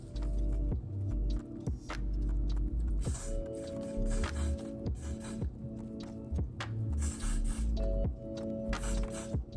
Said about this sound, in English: we're gonna spray her down with some got to be.